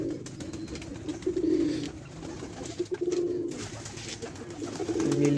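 Racing pigeons in a loft coo repeatedly, their low throaty phrases rising and falling in overlapping waves over a steady background hiss, fairly close and moderately loud.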